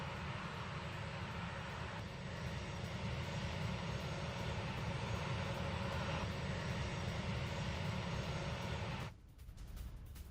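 A Boeing E-7A aircraft's engines drone in a loud, continuous roar that holds steady for several seconds before dropping off abruptly near the end.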